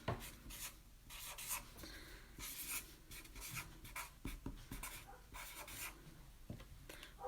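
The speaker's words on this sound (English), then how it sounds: "so I've got my happy spring written" Pencil or marker writing on paper during a children's egg carton flower painting craft lesson, close and soft, a rhythm of short scratchy strokes and rubs with brief pauses between words.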